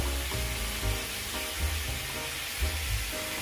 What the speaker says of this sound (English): My water over here is boiling.